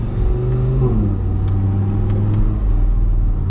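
Audi R8 V10 with an IPE exhaust accelerating at night, a steady, loud low engine rumble with rising harmonic sweeps as it pulls, continuous throughout with no talking.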